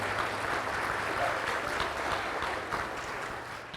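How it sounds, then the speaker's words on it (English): A hall of fame ceremony audience gives steady, moderately quiet applause for nearly four seconds, a dense wash of clapping that tapers slightly toward the end. "we can have some applause"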